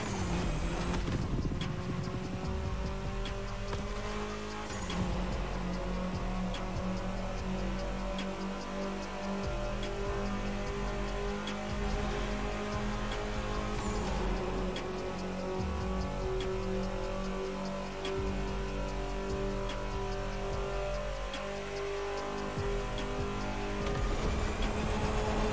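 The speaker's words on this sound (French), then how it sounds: "J'aime beaucoup le son des voitures dans les tunnels." Steady engine drone of cars driving through an enclosed tunnel in the video game The Crew Motorfest, a continuous echoing rumble with a couple of swells as vehicles pass.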